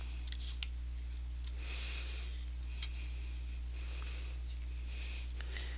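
Scissors snip through paper leaves for a handmade card, giving a run of soft, close, irregular cutting crunches and small clicks over a steady low hum, with no talking.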